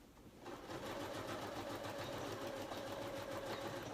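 A sewing machine backstitching, a steady, fast mechanical whirring hum starting after a brief quiet moment and running evenly, close and moderately loud with no speech.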